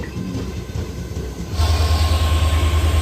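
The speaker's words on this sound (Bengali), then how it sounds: "আমাদের ট্রেন সাঁতরাগাছি স্টেশনে প্রবেশ করলো প্রায় পঞ্চান্ন মিনিট লেট" A train pulls into Santragachi station with a steady rumble of wheels and carriages heard from close by. The low, pulsing drone grows louder and heavier partway through.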